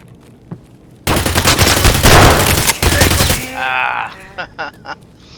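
A loud, close full-auto burst of gunfire in Escape from Tarkov, rattling for about two seconds, followed by a few scattered distant shots and clinks.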